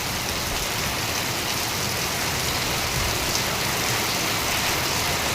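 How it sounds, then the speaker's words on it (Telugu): Heavy rain pours down in a dense, steady broadband hiss with no letup, drumming on surfaces close by and filling the whole stretch without any voices. "వర్షం అసలు చూడు అసలు ఆగట్లే."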